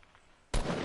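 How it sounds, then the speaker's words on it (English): Distant gunfire in a multiplayer shooter video game, a sudden loud burst of shots after a quiet stretch, continuing steadily to the end. "I hear gunshots southeast."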